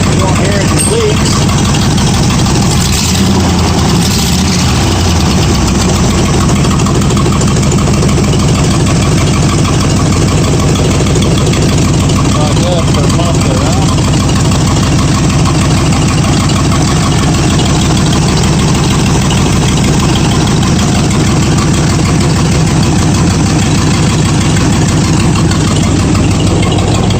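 A 1937 Ford engine running with open exhaust pipes and no mufflers, a loud, raw, continuous rumbling roar heard up close, steady throughout with a brief rougher patch near the start.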